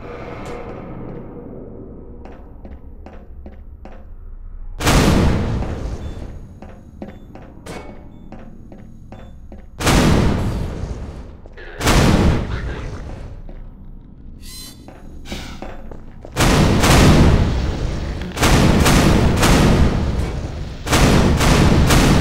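Heavy turret gunfire from the Half-Life 2 video game, booming in loud sustained bursts that alternate with quieter stretches of clicking and rattling action.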